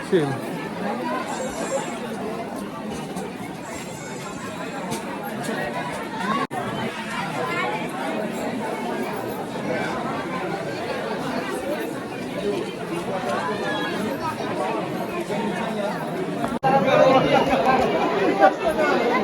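Dense crowd chatter fills a pilgrim queue at Bhimashankar temple on a busy Shravan Monday, a steady wash of overlapping voices that swells slightly toward the end.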